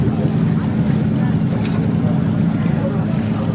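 Steady engine rumble of a boat on the Bosphorus, heard from aboard or close by the Üsküdar shore, with continuous wind and water wash throughout and no clear speech.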